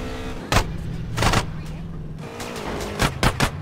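Bursts of gunfire ring out while driving a car in GTA San Andreas, several sharp volleys spaced across the moment over a continuous engine and road drone, with no talk.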